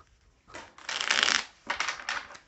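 Belline oracle cards are shuffled close up in several quick papery riffling bursts separated by short pauses, quiet and alone without any voices.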